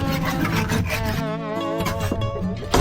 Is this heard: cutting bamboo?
yes